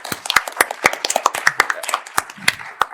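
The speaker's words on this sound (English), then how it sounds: "can we just please clap for them?" A small group at a conference session claps for the booksellers, sparse individual handclaps overlapping in a loose, uneven patter that stays close and fairly loud for a few seconds.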